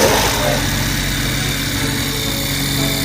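A BMW X5 petrol-electric hybrid engine starts and settles into a loud, steady idle, a continuous close rumble with no talking.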